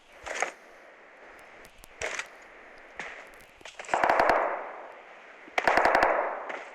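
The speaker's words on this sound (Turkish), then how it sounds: "Silah sesi geliyor." Bursts of rapid automatic gunfire from PUBG, several volleys separated by short pauses, loud and sharp against a steady background hum.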